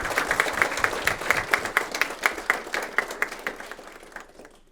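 An audience at a youth program graduation event claps steadily for several seconds, a dense patter of applause that gradually thins and fades out at the end.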